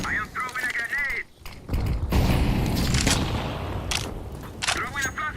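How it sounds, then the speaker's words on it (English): A grenade goes off in a Counter-Strike match, a broad loud boom that rolls into sustained blast noise and scattered gunfire, with a player's voice talking over parts of it before and after. "I am throwing a grenade."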